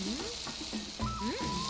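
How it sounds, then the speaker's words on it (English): Food sizzles and fries on a cooking surface in Monster Hunter World, a steady hiss with tonal game sounds and music swooping over it, moderately quiet. "Just listen to that sizzle."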